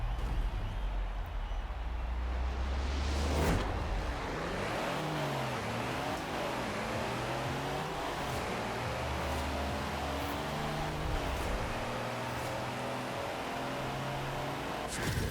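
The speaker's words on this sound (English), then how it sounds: "It just looks like I'm just hitting the limiter every time I'm shifting." A massive drag-racing truck in Forza Horizon 4 revs hard and repeatedly bounces off the rev limiter during quick gear changes, a loud continuous engine drone with stuttering rises and drops.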